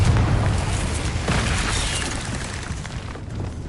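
Confringo blasting spell explosion in the Hogwarts Legacy video game, a heavy low boom with a noisy burst that swells and then slowly fades into a dull rumble, heard alone and at moderate loudness.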